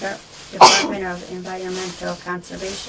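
A single loud sneeze bursts out at a planning commission meeting, sharp and close, while a man reads aloud from the mail before and after it.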